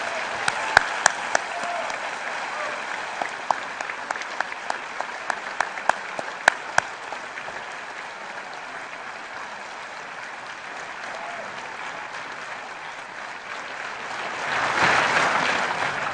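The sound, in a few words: applause at a graduation ceremony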